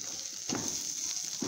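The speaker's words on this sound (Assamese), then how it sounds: "দালিখিনিত তেল মাৰিম, এইবাৰ জলকীয়া দি দিলোঁ" Hot oil sizzles as dal is tempered with panch phoron and green chilli, a steady close hiss with a few sharper bursts of crackle as the chilli hits the pan.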